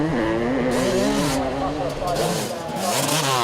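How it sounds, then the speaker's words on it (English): A 1989 Honda CR500 two-stroke motocross bike races around Fox Hills, its engine loud and close, rising and falling in pitch as the rider works the throttle, with a voice talking over it. "It just feels natural to see a CR500 ripping around Fox Hills."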